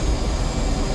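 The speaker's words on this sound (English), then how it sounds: "Afterburner. And we're off." Jet afterburner roaring during a carrier takeoff in the flight simulator DCS World, a loud, dense, continuous rumble with no speech.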